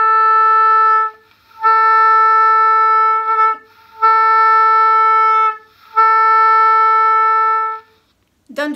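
Beginner on oboe trying circular breathing: a steady sustained reedy tone held in four long stretches, each broken by a brief gap where the sound drops out, ending with a short squawk.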